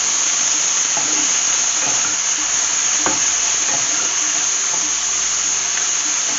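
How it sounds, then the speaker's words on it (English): Mint, garlic and green chilies sauté in a hot pan for a mint chutney, giving a steady, close broadband sizzle and hiss throughout with a few soft stirring knocks, no talk. "And you've got to saute the mint quite well."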